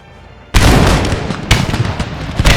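A ragged musket volley from infantry in Empire Total War, set at the 1700 Battle of Brussels: a sudden loud burst of gunfire, then a second crackling wave and scattered shots close together.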